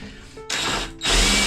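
A power drill bores a hole through a boat hull, whirring in two loud bursts after a quieter start, with no voices.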